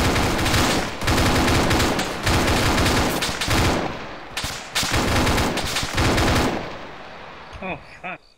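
Bursts of automatic gunfire in an Arma 3 battle, loud rapid volleys in several clusters with brief gaps, ending in a quieter tail.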